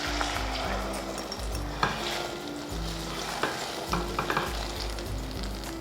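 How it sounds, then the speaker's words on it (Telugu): Beaten egg mixture with turmeric sizzles in a pan on a medium flame for egg fried rice, a steady frying hiss broken by scraping stirring strokes and light clinks of the spatula. "స్టవ్ మీడియం ఫ్లేమ్లో పెట్టుకొని ఈ ఎగ్ని ఉడికించుకోవాలి"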